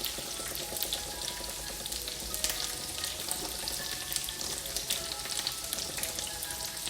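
Shallots fry in a pan with a continuous crackling sizzle and occasional stirring scrapes, steady and close throughout.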